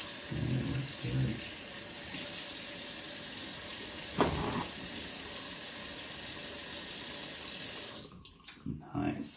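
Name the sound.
water running from a sink tap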